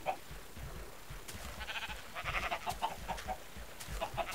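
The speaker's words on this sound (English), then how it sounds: "Try and get a couple more chickens out of it." Chickens in the Minecraft video game cluck in short, repeated bursts, a few overlapping calls over a steady low background rumble, moderately loud throughout.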